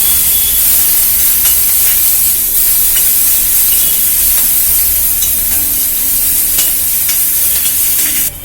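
Pirandai leaves sautéing in a hot pan for a green-leaf chutney, a loud continuous sizzle and hiss with scattered stirring scrapes, close up and constant until it drops away at the very end.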